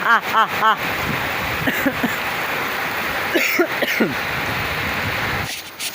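Light rain falls during a hailstorm in a village yard, a steady soft wash of patter running the whole time beneath people talking nearby.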